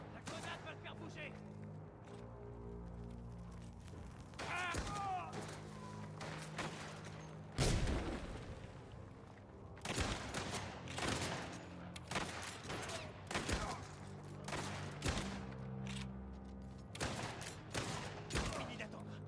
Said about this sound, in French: La grenade va le faire bouger.